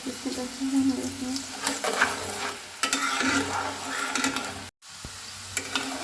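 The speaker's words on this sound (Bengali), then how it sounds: "তো আমার পাঁচফোড়নটাও ভাজা হয়ে যাচ্ছে" Panch phoron five-spice crackles and sizzles in oil while being stirred for a chili-garlic pickle, with a continuous close frying hiss, repeated scraping stirs and a brief gap near the end.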